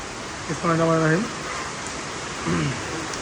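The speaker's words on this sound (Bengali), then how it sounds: "প্রচুর বৃষ্টি শুরু হয়ে গেল" A steady hiss of heavy rain fills the background, and a voice briefly sounds over it twice.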